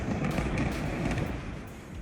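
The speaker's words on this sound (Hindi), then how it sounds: "एक के बाद एक कई धमाके हुए" Explosions from night air strikes in Gaza-war news footage, a dense, continuous rumbling roar with repeated deep thuds and booms layered over one another, loud and sustained throughout.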